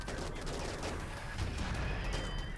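Automated turrets fire in the video game RimWorld against a zombie and mechanoid assault, a dense continuous rattle of gunfire blending into a loud, noisy wash with no clear separate shots and no talking.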